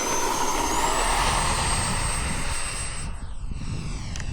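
Model airplane coming in to land at an airfield, its engine whine droning steadily and fairly loud near the microphone, then easing slightly toward the end.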